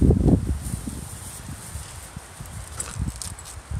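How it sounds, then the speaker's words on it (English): Wind moving through trees near a new mailbox, a steady broad rustle with low rumbling gusts throughout, fairly close, with no talk. "It's the wind and the trees, isn't it lovely?"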